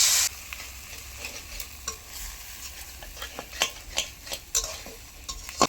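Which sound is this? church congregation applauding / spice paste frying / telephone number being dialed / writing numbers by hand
spice paste frying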